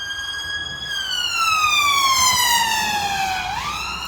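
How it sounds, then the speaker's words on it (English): An ambulance siren wails loudly, its long tone gliding downward as it passes, then jumping back up near the end. "Oh dear, an ambulance going as well, that's not good."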